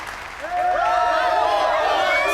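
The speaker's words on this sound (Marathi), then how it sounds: "सर्वांनी जोरदार टाळ्या वाजवून या तिघांचं स्वागत करावं" A crowd applauds to welcome three people onto a stage, a broad steady roar of clapping and cheering that swells after a moment, with voices mixed in.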